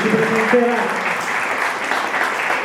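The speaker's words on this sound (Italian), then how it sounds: "possiamo salutarlo con un grandissimo applauso, Rosario Gugliotta" A large audience applauding steadily and loudly at a conference, dense clapping throughout with a brief tonal sound near the start.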